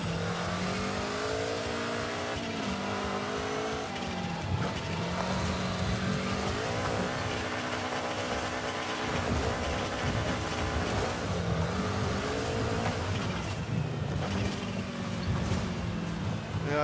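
A rally car engine in a hill-climb racing video game, a loud continuous engine roar with repeated revving up and down through gear changes, occasional tire noise, sustained throughout.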